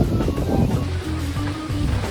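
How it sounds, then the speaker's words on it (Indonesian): Strong wind buffets the microphone on Mount Betung in Lampung during a stormy camping morning, a loud rushing roar with gusty low rumbles that swells and eases over about two seconds, no talking. "Posisi angin kenceng banget nih."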